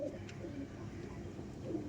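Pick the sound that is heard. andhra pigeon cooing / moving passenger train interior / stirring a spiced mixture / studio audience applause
andhra pigeon cooing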